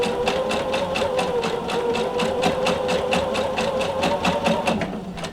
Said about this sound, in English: I'm going to go ahead and stitch all the way to the end